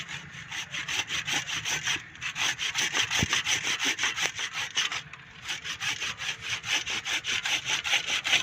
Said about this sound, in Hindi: शाख काटते वक्त ख्याल रखें कि आपकी जो आरी है वो दूसरी शाखों को ज़ख्मी ना करे